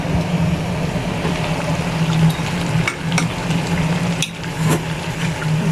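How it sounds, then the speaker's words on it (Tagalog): Ginataang tulingan, tuna in coconut milk, bubbling and sizzling steadily in a pot as its bottom starts to scorch, a continuous close hiss with occasional sharp pops and crackles. "kailangan na natin galawin kasi nasusunog na yung ilalim"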